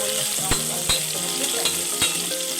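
Onion fries in oil with mustard seeds and cumin, a steady close sizzle broken by several sharp spoon scrapes and clacks against the pan as it is stirred.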